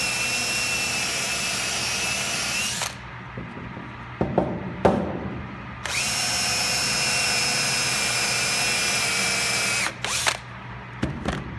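A power drill with a step drill bit drilling wood whirs steadily for several seconds, stops, then runs again, with short bursts and clatter between runs; close and loud.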